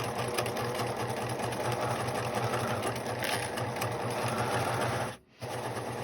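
Sewing machine stitching a fabric face mask, a steady rapid mechanical whir with a regular pulse, loud and close, briefly stopping near the end before starting again.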